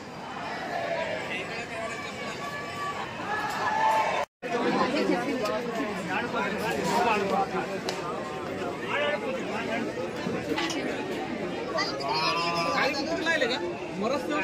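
Dense crowd chatter at Ghrishneshwar Jyotirlinga temple, many voices overlapping in a steady, close babble with footsteps and shuffling, broken by one very brief dropout.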